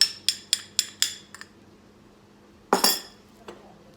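A utensil mixes Italian orange cookie dough with oil, orange juice and orange zest in a bowl: a quick run of five sharp clinks, a pause, then a louder scraping clatter and one last faint tap.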